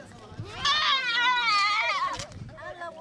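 Goats donated to poor families in Garissa, Kenya, bleating: one long, loud, wavering bleat rises and falls over a second or more, with children's voices and other bleats in the background.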